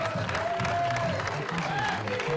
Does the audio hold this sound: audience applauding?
yes